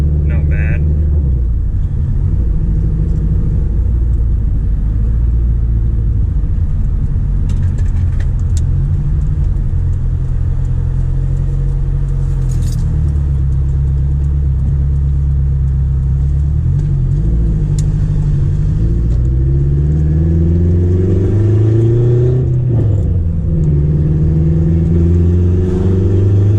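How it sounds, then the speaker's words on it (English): A turbocharged Acura TSX engine running cold, idling with a loud, steady low rumble, its pitch rising and wavering toward the end. "Can hear my car, but this thing turboed and running cold, doesn't really like it."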